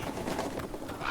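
Crows in a scene from the fantasy video game Dragon Age: The Veilguard, with several quick bird calls overlapping in a busy chatter, moderately loud and close, with no talking.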